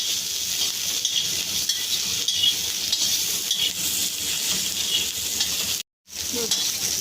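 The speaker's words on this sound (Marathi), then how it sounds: "चांगले लाल भाजूस्तोवर पूर्ण लाल होतोवर भाजायचं आहे मस्त पाहिजे थोडंसं तेल टाकले त्यातमध्ये भाजायसाठी" Onion and dried coconut roasting in a little oil in a pan, a steady close sizzle running throughout with a brief break near the end.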